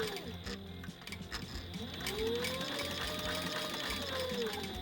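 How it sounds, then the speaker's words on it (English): A sewing machine runs steadily through a seam joining leather and fabric pieces for a bar stool cover, its mechanical whir and gear clatter continuous and fairly close, with no talking. "pinned the fabric together at that spot, and sewed it"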